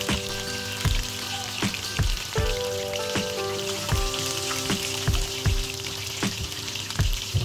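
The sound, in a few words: chicken drumsticks frying in hot oil on low flame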